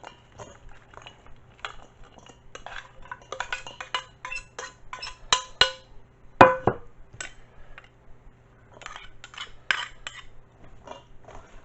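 A potato, meat and onion filling for a Tatar belesh gets mixed in a dish, giving scattered clinks, scrapes and soft taps of a utensil against the bowl, quiet and close, with pauses between strokes.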